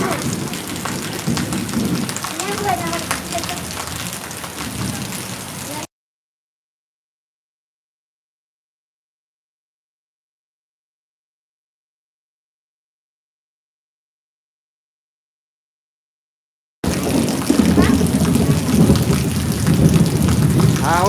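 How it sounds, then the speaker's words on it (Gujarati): Heavy rain pours down across Surat city in a dense, loud roar with thunder rumbling through it; the downpour drops out completely for about eleven seconds midway before resuming just as strongly. "અહીંયા વરસાદ સારો પડે છે"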